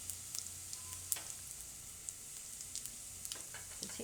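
Cumin seeds and garlic fry in hot oil, a faint, steady sizzle with small scattered pops and crackles, with no voices.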